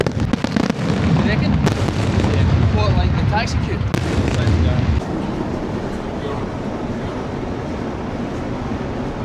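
Repeated booms and crackling blasts of fireworks at the Formula 1 Qatar Grand Prix in Doha, loud and continuous at first, then fading to a distant rumble; people's voices are faint underneath.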